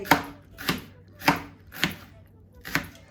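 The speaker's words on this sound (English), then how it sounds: "I'm just gonna cut my onions not pretty fine, but kind of" Five evenly spaced knife chops through onions on a cutting board for a seafood boil, each a sharp close thud with a short tail, no talking.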